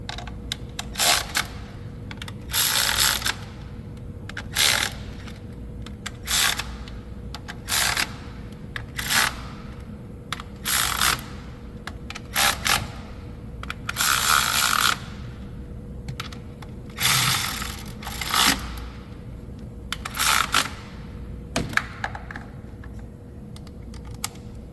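A ratchet tightens the valve cover bolts on a rough-running engine, with short bursts of rapid close clicking separated by brief pauses, repeated many times, and no voices.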